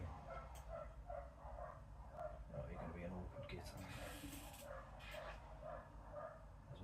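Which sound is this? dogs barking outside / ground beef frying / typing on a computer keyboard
dogs barking outside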